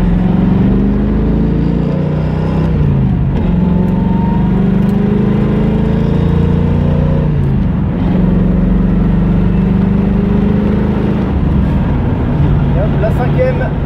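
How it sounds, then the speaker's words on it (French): A Pontiac V8 car with a five-speed Tremec gearbox accelerates, its engine note steady and loud with rising harmonic sweeps as the revs climb, then dropping at gear changes and climbing again, with a person talking over it. "Petite accélération maintenant"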